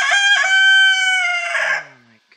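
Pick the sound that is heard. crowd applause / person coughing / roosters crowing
roosters crowing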